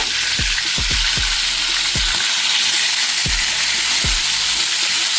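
Rohu fish frying in a pan for a Bengali curry, a steady, dense sizzle with several low thumps and scrapes as the pieces are turned.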